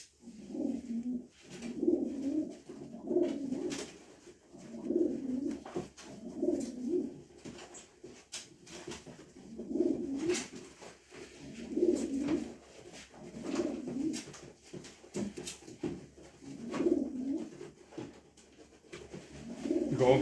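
Racing pigeons in a transport crate coo in repeated soft rounds, close and fairly quiet, with small rustles and taps between the calls.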